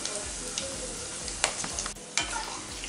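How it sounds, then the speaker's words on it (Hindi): Whole spices like cloves, cinnamon, star anise and black cardamom fry in hot oil for Amritsari pindi chole, sizzling steadily with scattered crackles and a few sharp pops close up, with no talk. "तो थोड़ा सा इसको तड़कने तक अच्छे से फ्राई कर लेंगे"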